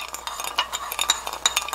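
Spoon clinking and scraping against a bowl while stirring a soy sauce, sugar and pepper sauce, a quick run of light rhythmic taps up close with no talk.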